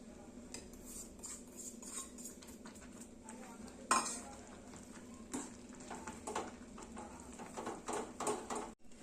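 Roasted ragi flour being stirred into upma in a pan, intermittent close spoon scrapes and clinks against the pan over a faint low hum.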